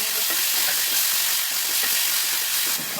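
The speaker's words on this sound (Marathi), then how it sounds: "तडका तड़का बहुत खतरनाक लगा" Spice tempering in hot oil, a loud, steady broadband sizzle and hiss that holds without a break throughout.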